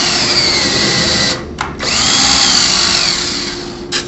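Power drill countersinking a screw into a shutter frame, a loud close whirring drive that cuts out briefly, resumes, then stops with a short final burst.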